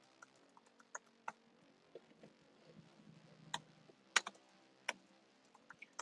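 Typing on a computer keyboard during C# and .NET coding work: scattered, uneven keystroke clicks, some sharp and some soft, close and fairly quiet over a faint steady room hum, with no talking.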